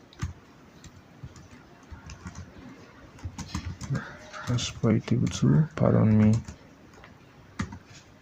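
Computer keyboard typing, clicking keys in short bursts close by, growing denser and louder in the second half, with faint room noise and a voice partly heard.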